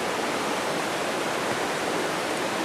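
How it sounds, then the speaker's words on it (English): Water rushes below rocks in a steady, dense roar with no breaks, filling the space evenly and close by, with no voices or other sounds. "The water's down there moving all the air."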